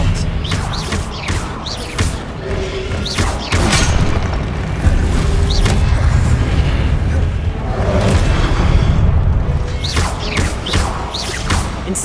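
Repeated Expelliarmus spell blasts in Hogwarts Legacy combat: a series of sharp booming impacts and crackling bursts at irregular intervals over a dense, rumbling battle background, loud and close throughout.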